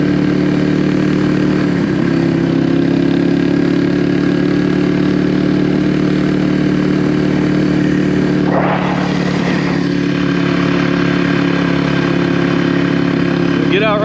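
A Kawasaki KLX300R dirt bike rides a muddy spring trail, its engine humming steadily and close throughout while a rider talks over it.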